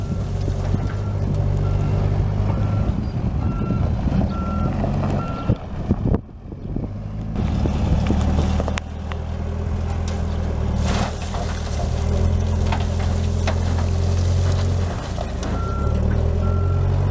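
A truck's reversing alarm beeps steadily at a recycling yard where wood chips are loaded, a low engine rumbling beneath, with a brief dip midway and wind noise throughout.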